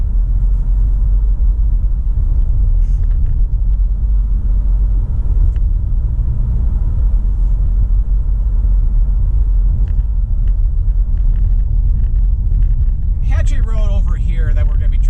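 A car drives along a residential road in Waterford, Michigan, its low engine and tyre rumble holding steady and loud throughout, with a brief burst of other noise near the end.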